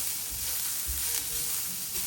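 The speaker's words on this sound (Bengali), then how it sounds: "সেই কারণে আমি মূলাটাকে এভাবে একটু ভেজে দিচ্ছি" Radish pieces fry in a pan for a radish-and-prawn mash, giving a steady, close sizzle with soft crackling that holds at an even level throughout.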